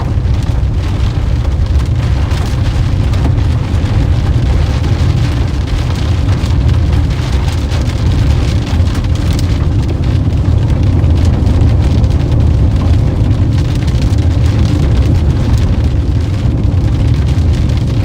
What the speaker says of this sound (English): Trying to outrun the storm, but we're not doing a very good job of it.